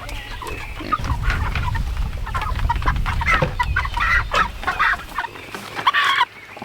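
Chickens cluck and squawk continuously, close and fairly loud, several birds calling over one another amid scuffling while being handled for butchering, with no talking.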